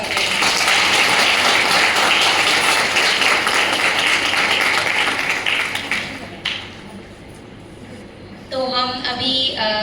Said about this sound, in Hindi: प्लीज उनको जोरदार तालियों के साथ स्वागत करें